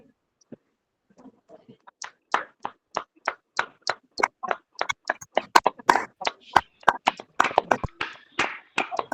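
Children clap their hands at a church gathering, beginning with a few scattered claps and building into a dense, fast run of sharp claps from many hands.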